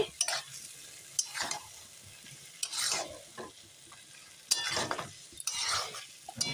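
Chicken curry being stirred in a pan, repeated scraping strokes of a spatula against metal at an uneven rhythm over a faint background sizzle, close and fairly quiet, no talking.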